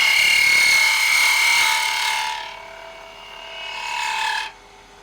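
A lathe cuts brass stock for a .50 caliber cannon build, giving a bright, high-pitched sustained whine that fades out and then returns briefly before stopping, close and loud with no talking.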